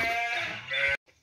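Boer goats and sheep in a flock bleating loudly and close, one sustained bleat after another, then a short fainter call.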